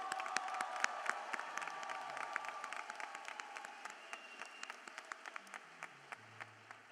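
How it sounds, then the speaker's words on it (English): A crowd applauds the medical school class of 2030 at a white coat ceremony, dense clapping fading to a thinner patter of scattered claps toward the end. "more round of applause, class of 2030."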